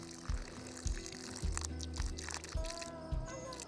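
Water gurgles and trickles in short repeated pulses as air bubbles rise through a hose level on a patio footing job, close and fairly soft, with bubbly chirps near the end.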